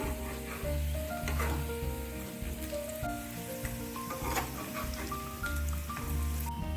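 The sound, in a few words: frying fig fritters (dumur bora) in pan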